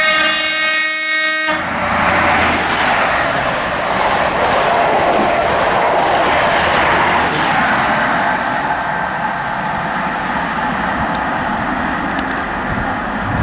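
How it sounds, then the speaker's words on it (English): An HST diesel train from Leeds to London King's Cross passes through Grantham on the East Coast Main Line with East Midlands Trains power cars, a loud sustained engine roar with a horn sounding near the start. "Passing through now, we've got a HST from Leeds to London King's Cross."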